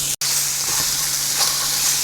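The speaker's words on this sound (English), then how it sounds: "now at this point we could flip our chicken" Chicken fries in a lightly oiled pan with a steady, loud, close sizzle and hiss that is broken only by a split-second dropout near the start.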